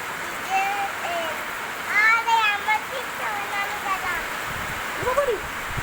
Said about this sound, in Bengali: বৃষ্টি পড়ছে, দেখো কত বৃষ্টি টপ টপ করে পড়ছে